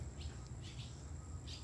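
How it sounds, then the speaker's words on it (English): Small birds chirp faintly inside an abandoned barn, a few brief scattered tweets over a low, hollow room hum, with no talking. "All these birds in here."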